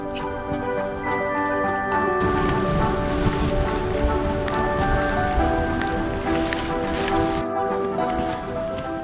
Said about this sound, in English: I don't think this rain is going to stop anytime soon.